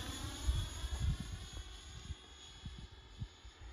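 A Flex Innovations F100d RC jet flies past at under half throttle, giving a steady, fairly faint whooshing drone with low rumbling fluctuations throughout.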